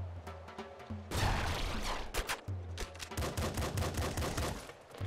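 A grenade revolver fires in the video game Nuclear Throne, a rapid run of sharp, punchy shots and blasts over several seconds, steady and fairly loud with no talk over it.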